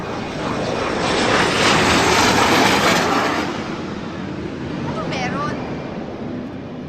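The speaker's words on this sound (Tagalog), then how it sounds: "Siguro mahuhulaan nyo na talagang maingay sa labas yung jet." A jet aircraft flying overhead outdoors gives a loud, broad roar that swells and then slowly fades while a person speaks over it.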